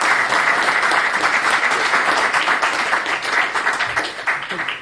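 Steady, dense applause from a seated audience at an architecture talk on public design competitions, holding at full strength for about five seconds before thinning slightly at the end.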